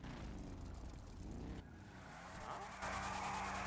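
Video game motorcycle engine running steadily, a loud continuous drone that shifts in tone partway through and rises near the end, with voices talking over it.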